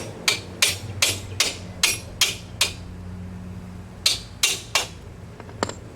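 Sharp metallic hammer taps on a Ninja 500R motorcycle part during chain and sprocket replacement, a rapid run of about seven evenly spaced blows, a brief pause, then three more strikes and a lighter final tap, close by.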